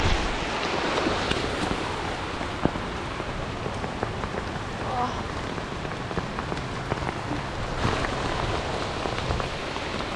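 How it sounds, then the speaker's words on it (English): Heavy rain pours steadily onto water and surfaces during a fishing outing, a dense, constant hiss of drops with no pauses, close and loud throughout. "raining so hard"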